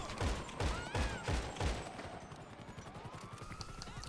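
Gunfire in the video game GTA Online from a commando rifle: a few heavy separate shots in the first half, then a quicker, fainter burst of rapid fire with ringing, whistling tones.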